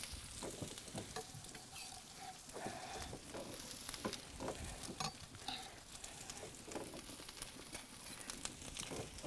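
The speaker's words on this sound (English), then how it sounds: "You wanna hear the sizzle right away. You know that you're frying it," Onions crackle and sizzle in a hot frying pan, a steady, close hiss with small pops and occasional stirring scrapes.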